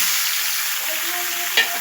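Boiled soybean chunks fry in hot oil in a home kitchen, giving a steady close hiss of sizzling with a brief clink near the end.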